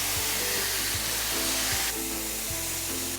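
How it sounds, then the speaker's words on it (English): Steady, loud sizzling and hissing from a 1-inch ribeye steak searing in a hot pan, continuous throughout with a low hum beneath. "You wanna hear that sizzle when you go into the pan."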